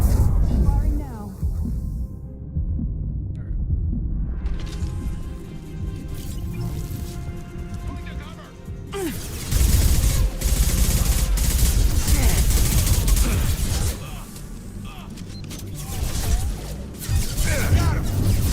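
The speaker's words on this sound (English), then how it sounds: "Firing now." Weapons fire in the video game Mass Effect 2, with loud bursts of shots and impacts in two main stretches separated by a quieter gap, and voices talking over the action.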